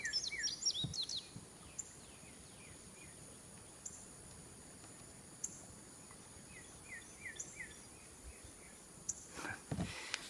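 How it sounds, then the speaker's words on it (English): Birds sing outdoors in the morning beside a body of water. Short, high chirps and trills come in scattered clusters from a moderate distance over a quiet, faintly hissing background, with a few soft knocks and rustles nearby. "You can hear all the birds."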